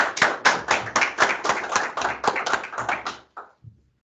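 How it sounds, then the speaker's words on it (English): A lone pair of hands clapping at a cardiology rounds lecture, about a dozen quick, evenly spaced claps close to the microphone before stopping abruptly, with a faint trailing sound after. "So now another virtual and real round of applause."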